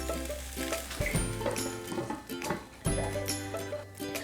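Sabudana khichdi cooks in a pan, giving a quiet, low sizzle with occasional soft clinks and stirring clatter.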